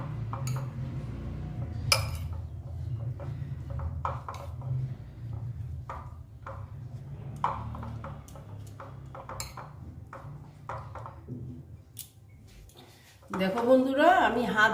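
Bread slices and egg mixture are squished together by hand in a bowl, with soft wet kneading and scattered light clinks against the bowl while a person talks throughout.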